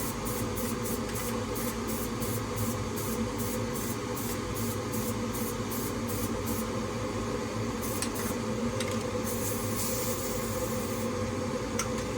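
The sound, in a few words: paint spraying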